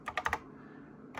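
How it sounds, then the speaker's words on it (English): Four quick key clicks on a computer keyboard as a file name is entered on a NABU computer. They are close but faint and followed by quiet. "And we'll just type in the file name,"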